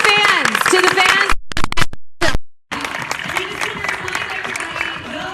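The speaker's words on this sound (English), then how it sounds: "we all clap for you guys" Applause breaks out from the audience at a Pretty Little Liars cast panel at a live screening in Los Angeles, dense clapping mixed with crowd voices, briefly cut by abrupt dropouts.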